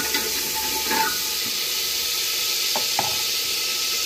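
Asafoetida with cumin and mustard seeds roasting in hot oil for green moong dal khichdi, a steady soft sizzle with a few light stirring scrapes.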